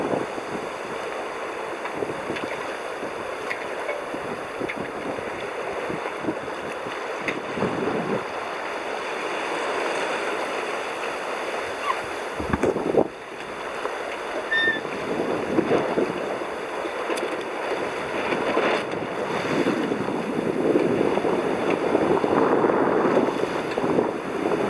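A sailboat moves under sail in light wind just before entering a sound with wind over tide, giving a steady rush of wind and water across the whole stretch with no talking.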